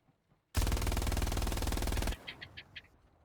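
A braced machine gun fires in the World War II shooter Hell Let Loose: one loud continuous burst of rapid rounds for about a second and a half, then a few faint mechanical clicks as it stops.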